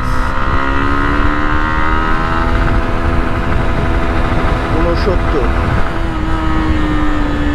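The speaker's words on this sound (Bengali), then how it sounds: "2 গিয়ারে আছে, দেখি 2 গিয়ারে কত ওঠে বাইকটা" A used Yamaha R15 V2 motorcycle engine held at high revs in second gear, a loud, steady, droning whine that stays at a constant pitch throughout, with a voice briefly speaking over it.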